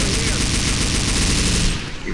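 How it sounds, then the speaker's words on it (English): Sustained, loud automatic gunfire in Left 4 Dead 2, a continuous rapid rattle of shots that stays dense throughout and barely dips at the very end. "Why are you trying to shoot me, Bryan?"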